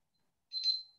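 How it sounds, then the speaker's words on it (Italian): A countdown timer goes off during a public debate on city energy and networks in Rome, a single short electronic ring of about half a second rising then fading, clear and alone in an otherwise quiet moment. "mi suona il timer"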